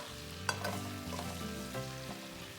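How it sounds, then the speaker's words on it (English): Dried chili and peppercorns frying gently in oil over low heat for kung pao chicken, a soft continuous sizzle with a faint clink near the start. "Fry the chili and peppercorn over low heat"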